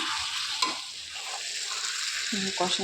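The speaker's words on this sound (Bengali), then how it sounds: "আমি এখানে আবার এটাকে ভালো করে কষিয়ে নিই" Chicken rezala being stir-fried in a pan, a loud continuous sizzle with scraping stir strokes, close; brief voice sounds in the background.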